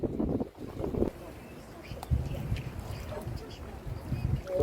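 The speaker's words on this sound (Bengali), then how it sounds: "দেখুন দেখুন কত জোরে জোরে ঢেউ আসছে" Strong wind and rough waves buffet a fishing boat on the water in the Sundarbans, giving a steady low rumbling roar with heavier surging gusts throughout.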